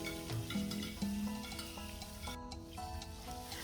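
Onions frying in vegetable oil with curry and thyme in a frying pan on a stovetop, a steady close sizzle with some stirring and scraping throughout, no talking.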